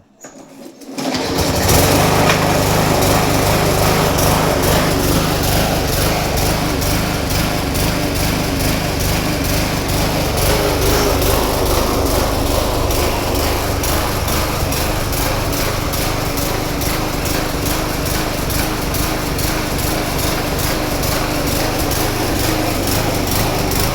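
A petrol lawn mower engine is pumped and started, catching after a brief pause and then running loud and steady at close range without any break.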